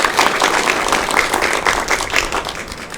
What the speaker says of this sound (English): if you would please join me in applause to Dana Schultes and Stage West for letting us use this marvelous space